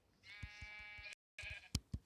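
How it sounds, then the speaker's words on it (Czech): Minecraft sheep bleating in the video game, a sustained nasal bleat followed by a short gap and then a few brief clicks and taps, close and clear with no talking. "A hele, ovce."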